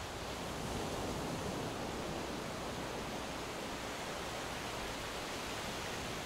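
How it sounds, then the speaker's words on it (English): A steady, broad rushing of water fills the clip, constant and close, as runoff streams through sand back into the ocean at Moruga Beach, Trinidad. "there's a runoff going through the sand and back into the ocean"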